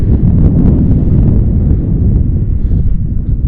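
Strong, steady wind buffeting the microphone while riding a Segway ZT3 Pro off-road electric scooter into a headwind, a loud continuous low roar with no pauses and no talking.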